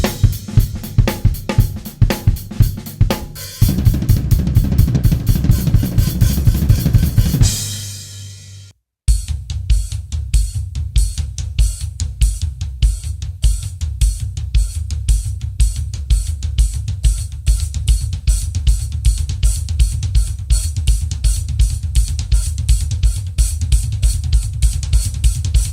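Drummer on a drum kit playing rapid crossover fills, dense fast strokes in steady repeating bursts with a short pause partway through, close and solo without talk.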